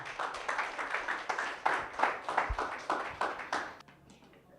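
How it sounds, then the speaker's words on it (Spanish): A church congregation applauds during a sermon, with rhythmic, fairly loud clapping in pulsing bursts that fades out near the end, leaving a brief quiet tail. "A su nombre, aplauso a Jesús"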